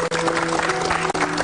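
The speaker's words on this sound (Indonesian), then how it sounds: "Tepuk tangan" Brief burst of audience clapping at an Indonesian motivational training session, dense and moderately loud, with a steady tone running underneath.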